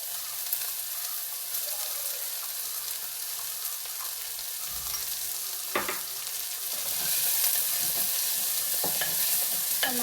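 Chopped onions frying in a pan while being stirred, a continuous close sizzle broken by a few sharp scraping strokes of the spoon, growing a little louder near the end.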